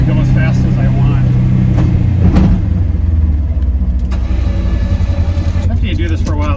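A 2025 Polaris Ranger XP1000 NorthStar UTV engine drives in low gear with a loud, steady rumble. Someone talks over it throughout.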